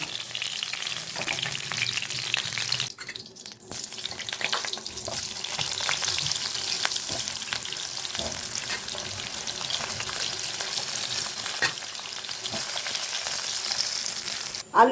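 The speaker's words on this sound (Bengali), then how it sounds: "এই তেলেতেই আলুগুলোকে ভেজে নেব" Potatoes frying in hot oil in a Bengali home kitchen give a steady, close sizzle that runs throughout with no pause, and occasional stirring or utensil scrapes break through the frying now and then.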